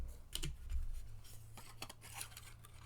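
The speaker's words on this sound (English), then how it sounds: "Okay, so I'm going to trim this other piece off." Card stock paper being trimmed for a handmade valentine card, giving a few short dry cutting scrapes and snips close by, with quiet pauses between them.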